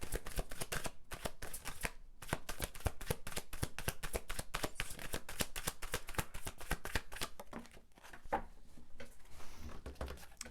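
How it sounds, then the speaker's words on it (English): A deck of tarot cards is shuffled continuously at close range, a dense run of quick papery riffles and slaps with a short lull near the end. "As I pick up the deck, here you are at the bottom. Shuffle you in."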